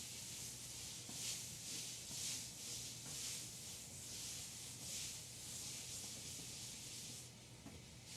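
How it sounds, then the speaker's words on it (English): A cloth wipes a kitchen counter in repeated rhythmic strokes, a soft close-up swishing rub that pulses back and forth at a steady pace. "I'm just going to wipe my counter down."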